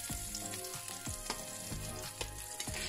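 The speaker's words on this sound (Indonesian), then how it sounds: "Kemudian kita tumis dulu bawang putihnya hingga harum" Garlic sautés in a mix of margarine and oil, crackling and sizzling steadily up close while a utensil stirs with repeated soft scraping taps.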